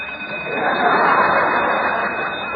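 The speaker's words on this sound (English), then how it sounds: "Turn off that alarm clock." An alarm clock rings as a sound effect in an old-time radio comedy, a loud, steady, continuous buzzing ring that holds for the whole stretch with no talk over it.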